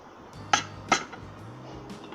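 Omelette ingredients of eggs, salt, milk, herbs and chilies are stirred in a bowl: two distinct clinks of utensil on bowl, then softer scraping and tapping, close and fairly quiet with no talking.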